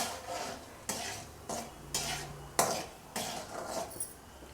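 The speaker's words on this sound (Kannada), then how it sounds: "ಗೋಡಂಬಿನ ಡ್ರೈ ರೋಸ್ಟ್ ಮಾಡ್ಕೋತಾ ಇದ್ದಾರೆ ಅದೇ ಗೀಯಲ್ಲಿ" Cashews dry-roast in ghee in a pan as a spoon stirs them, producing about seven rhythmic scraping sweeps over a faint, quiet sizzle, close up and without voices.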